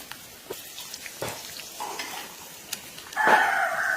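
Hilsa fish frying in a mustard, turmeric and chilli spice paste, quiet scraping stirs and taps in the pan, then a louder steady sizzle swelling up near the end.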